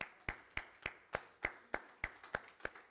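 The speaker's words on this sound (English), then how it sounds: "Let's give the Lord a round of applause" A congregation at a Sunday morning church service claps in a slow, steady rhythm, about ten distinct sharp claps, fairly quiet and without talk.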